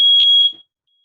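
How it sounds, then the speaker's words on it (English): A fire alarm gives one loud, piercing, high-pitched beep that lasts about half a second, then cuts off into silence. "Fire alarm."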